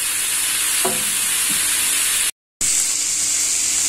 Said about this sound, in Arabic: غنضيف شويه الملح ونقلب الدجاج فيه حتى يطيب